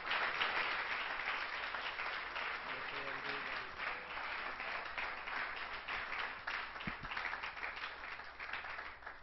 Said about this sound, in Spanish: Vamos a recibir a Luis con un fuerte aplauso.